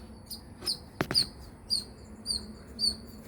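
A small bird chirps around a home, a series of short, high, sharp tweets repeating every half second or so, fairly close and clear, with a couple of faint knocks in between.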